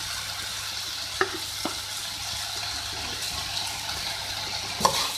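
Shredded boiled chicken and sauce for cheese cutlet filling are mixed in a pan, a steady soft sizzle with a few distinct spoon taps and a louder scrape near the end.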